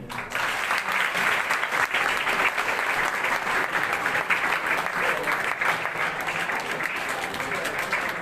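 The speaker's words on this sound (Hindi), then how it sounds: "बेटा आपको ताली बजानी है।" An audience claps in sustained applause at an SDRF Rajasthan public awareness demonstration in Gangapur. The clapping is dense and continuous from start to finish, with voices talking over it.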